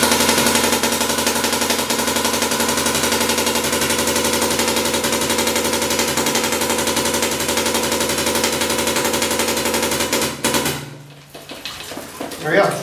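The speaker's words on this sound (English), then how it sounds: "So we'll go ahead and shoot a stream here." A MacDev Droid spool-valve paintball gun fires a rapid stream, a loud, continuous burst of closely spaced shots that runs for about ten seconds, then cuts off abruptly into quieter background.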